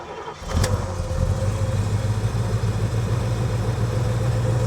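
A 1986 Chevrolet Monte Carlo SS engine cranks briefly and catches, then settles into a steady, close idle with a low hum that continues to the end.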